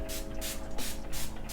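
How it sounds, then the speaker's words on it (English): Several short hissing spritzes from a facial toner mist spray bottle, evenly spaced and close, over a low background hum. "I'm just gonna spray that all over my face."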